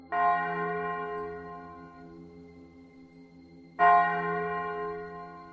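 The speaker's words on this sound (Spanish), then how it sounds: "La capilla casi desmoronada del pueblo sonó las campanas de forma espaciada y grave" A nearly crumbling village chapel bell tolls slowly and gravely for a death: two loud, clear strikes about four seconds apart, each leaving a long, ringing decay in otherwise quiet air.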